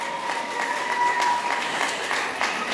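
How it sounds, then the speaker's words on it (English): Audience applause at a 2019 diploma ceremony, a steady dense wash of many hands clapping close by, continuous and moderately loud throughout. "clap for her."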